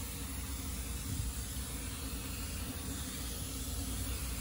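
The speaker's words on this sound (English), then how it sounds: "You're spraying it, what's that? The activator stuff?" Steady broadband hiss of hydro dip activator being sprayed continuously, loud and close, with no talking over it.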